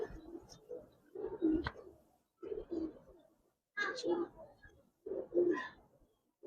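Giribaz pigeons in a loft coo in soft, throaty phrases, near and moderately quiet, repeating in short bursts with brief pauses between them.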